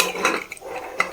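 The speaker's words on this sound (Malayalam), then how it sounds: "മൂടി വെച്ച് കൊടുക്കാം." A lid is set onto a cooking pot of village-style curry with a quick metallic clink near the end, against a low hiss of kitchen background.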